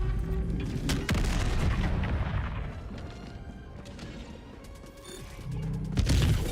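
An anti-tank emplacement in Helldivers 2 firing at an enemy shield: heavy booming cannon shots with rumbling mechanical clanks and crashes, loud and close, repeating across the stretch.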